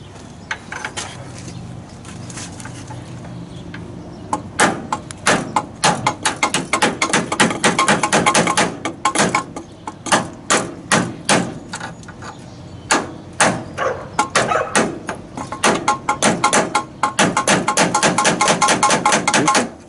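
A bolt is hammered out on a Freightliner FLD semi truck radiator: loud, sharp metallic blows struck in rapid bursts with short pauses between, close by and without talk.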